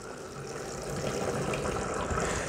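Water poured onto a potted orchid makes a steady broadband rush that swells slightly after the first second and holds evenly, close and continuous, with no voices.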